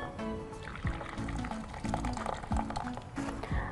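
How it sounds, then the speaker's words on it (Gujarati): Water is poured off boiled lentils (dal) in a pressure cooker, giving a close, gurgling trickle with repeated bubbly glugs as the liquid drains in uneven bursts. "ઉપરથી થોડું પાણી છે એ નિતારી લઈશું."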